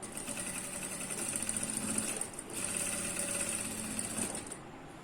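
A sewing machine runs up close as it stitches pant fabric, a fast, even mechanical whirring with one brief pause partway through, fairly quiet and with no one talking.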